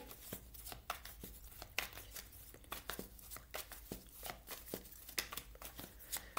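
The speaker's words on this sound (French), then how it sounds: "On va aller ajouter quelques cartes de tarot." Tarot cards are shuffled, drawn and laid out, giving a close, quiet run of soft papery flicks and slaps with brief crinkly rustles at an irregular pace, and no one talks.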